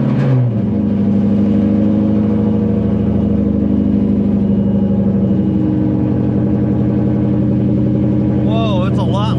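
A tuned drift car with drilled-out catalytic converters idles loudly and steadily up close, its deep exhaust rumble filling the whole stretch, with a voice reacting over it near the end.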